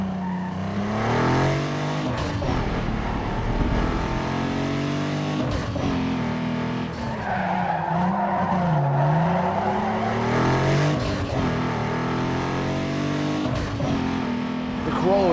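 A Toyota Corolla races in Need For Speed Underground 2, its engine droning and revving loudly and continuously, rising and falling through gear changes, with tire squeals and skids as it takes corners at speed.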